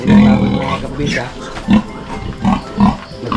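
A sow that has recently farrowed, on a small farm pen, gives a run of low, rhythmic grunts in short bursts, close by, with someone talking over them.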